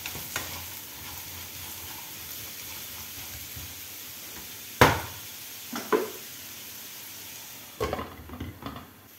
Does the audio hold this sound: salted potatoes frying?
yes